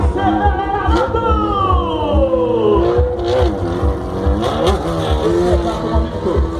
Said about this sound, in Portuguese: O motor em alta temperatura e alta rotação